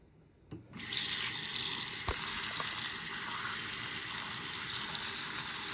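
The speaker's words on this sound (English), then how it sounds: "we'll rinse or wash this cutting board for our chicken later" A tap turns on and water runs steadily into a sink, splashing over a cutting board being rinsed, with an occasional knock; no talking.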